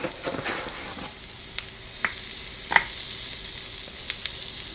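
Breakfast sausages sizzling on a Dash mini griddle, a quiet, steady frying hiss close by, broken by a few sharp pops and crackles.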